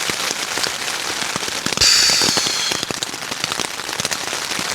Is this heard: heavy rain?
yes